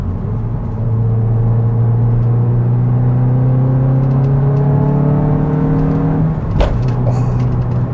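A Hyundai i20N accelerates hard on a twisty country road, its engine note climbing steadily and loudly through the revs in a smooth sustained pull, then a brief shift break before the drone resumes.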